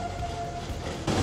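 The Kalavryta–Diakopto rack railway train passes close by, a brief loud rumbling rush with a fading horn tone and a burst of noise at the end.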